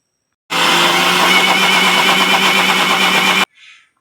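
Electric grinder whirring steadily as it grinds dry urad dal with no water added, a loud continuous whine that runs about three seconds and then cuts off abruptly.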